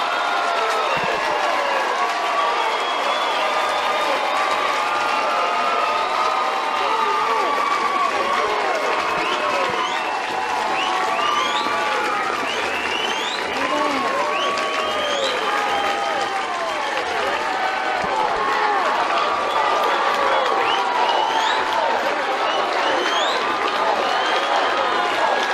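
A softball crowd of about 4,000 fans at an NCAA Super Regional game between Oklahoma and Alabama roars with sustained cheering, clapping and whistles, loud and continuous throughout with no break.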